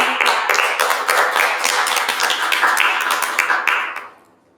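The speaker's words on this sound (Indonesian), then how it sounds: "Mari beri tepuk tangan untuk Kakak dan Abang kita." An audience at a Christian school talk show applauds with dense, steady clapping that holds for about four seconds and then quickly fades out. No voices are heard.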